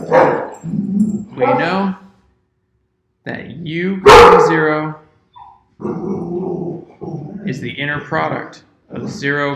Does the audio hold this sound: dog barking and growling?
yes